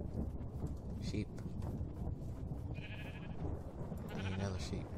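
Minecraft sheep bleat a few times in short wavering calls amid rumbling thunder and wind from a tornado storm mod, with a person talking over the game sounds.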